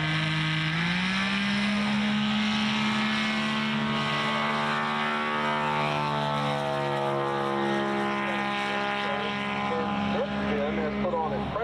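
A STOL aircraft engine with a three-blade reversible-pitch Duke propeller drones loudly and continuously at an Arkansas STOL event, its pitch rising slightly at the start and holding steady throughout.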